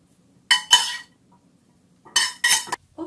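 Pan and metal utensils clinking while draining oil from crispy fried anchovies, two short pairs of sharp clattering knocks separated by a quiet pause, close and clear with no talk.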